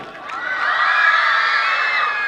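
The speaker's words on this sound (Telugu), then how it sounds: "Children clap for your self please. మనం ఒక వావ్ వేసుకుందామా?" A group of children at a school dance event cheers a drawn-out shouted "wow" together, a loud sustained crowd cry rising quickly and holding, with no clear clapping audible.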